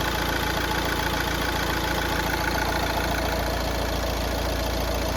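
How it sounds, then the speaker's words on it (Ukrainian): A 2014–2015 Nissan Qashqai 1.6 dCi diesel with automatic gearbox idles, giving a steady, loud, continuous engine rumble with fine rapid clatter and no talk. "двигун працює ідеально"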